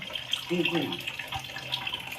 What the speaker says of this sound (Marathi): थोडं पाणी घेऊन पिळायचं